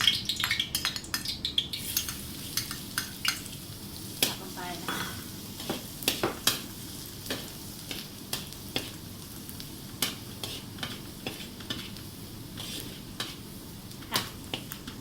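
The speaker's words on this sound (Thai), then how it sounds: "พอน้ำมันร้อนเราก็ใส่กระเทียมสับนะคะ" Minced garlic frying in hot oil in a wok for Sichuan mapo tofu, a steady sizzle under repeated sharp scrapes and taps of a spatula stirring, close and continuous with no talking.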